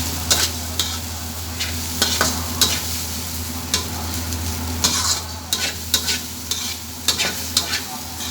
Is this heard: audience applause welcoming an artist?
no